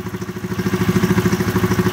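A 2019 Yamaha Grizzly 700 EPS ATV engine runs loud and close, its pulsing rhythm climbing slightly as it revs, with a rattling mechanical texture.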